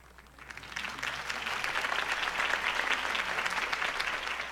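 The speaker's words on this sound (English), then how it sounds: "could have heard that applause" Crowd applause for a campaign speech in the video game Batman: The Telltale Series, a dense, steady clapping that swells after the first second and holds loud throughout, with no voices over it.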